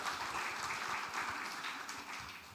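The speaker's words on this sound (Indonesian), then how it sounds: "Tepuk tangan buat Tuhan." Church congregation applauding during a sermon, a steady broad wash of clapping at moderate level with no talk over it.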